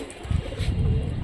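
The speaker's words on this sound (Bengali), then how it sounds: "উড়ন খেলের কবুতর এটা" A Rajshahi flying pigeon makes a brief low cooing and rustling close by, a soft continuous murmur with a slight swell in the middle.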